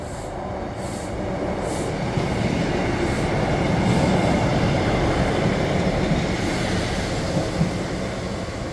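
A diesel passenger train in Northern livery, formerly East Midlands Railway, rumbles steadily past with a continuous low drone and faint rail clatter, heard up close and without any voices.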